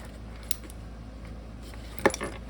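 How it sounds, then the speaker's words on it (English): A brief metallic jangle of keys clipped to a loop on a Helikon-Tex Possum waist pack, a small clink first and then a louder rattle near the end, close, over quiet room tone. "Keep my keys on the next loop."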